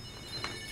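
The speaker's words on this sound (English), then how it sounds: "Oh, phone's ringing." A telephone rings faintly and briefly in a home, a soft electronic trill heard at a distance over low room noise.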